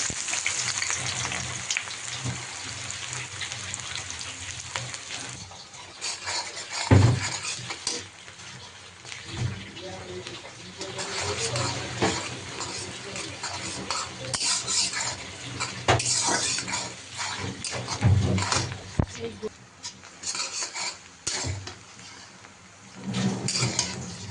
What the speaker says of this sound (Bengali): পেঁয়াজটাকে আমি বাদামি কালার করে ভেজে নিচ্ছি।